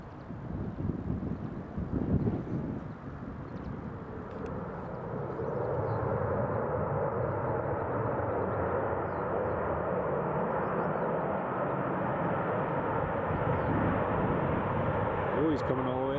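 A Ryanair airliner landing in crosswind at Newcastle Airport, its engine rumble rising into a steady roar mixed with gusty wind buffeting the microphone, while a person talks briefly near the start.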